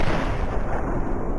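A heavy, booming grenade detonation set off by a gunshot in Fallout 3, loud and close, filling the short moment with a dense rumbling blast and no talk.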